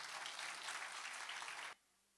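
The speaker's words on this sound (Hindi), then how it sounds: "ताली बजा सकते हो।" An audience claps at a golden jubilee celebration, a dense burst of applause lasting under two seconds before it cuts off abruptly into near silence.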